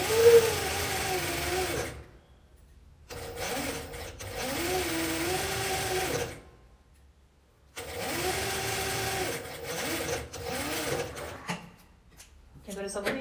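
Sewing machine stitching the hem of cotton fabric for a simple pillowcase with French seams: two long steady whirring runs of stitching, loud and close, broken by short pauses, with brief clicks and handling noise at the end.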